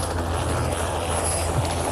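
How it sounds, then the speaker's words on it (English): Helicopter engine and rotor drone heard from inside the cabin during a 1986 treasure hunt in Devon, a loud, steady low hum with a constant high whine, no voices. "Should we get back into the helicopter then?"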